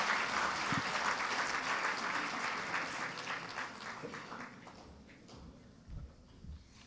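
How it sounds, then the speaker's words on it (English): Audience applause for student presenters at a youth dialogue event, steady dense clapping that gradually thins and fades toward the end, with a few louder individual claps at the close. "one more round of applause for our student presenters for their great presentations"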